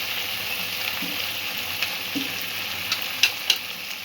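Potatoes are stir-fried in a pan over a medium gas flame for a Bengali vegetarian chhana curry, a steady close sizzle with a few light spatula clicks and taps toward the end, with no one speaking.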